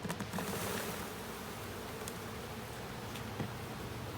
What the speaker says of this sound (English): I'm going to shake the bees off into a container.